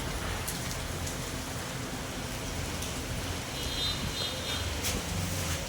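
Rain falls steadily on the roof of a house, a dense, even patter with scattered louder drops heard close by, with no voices.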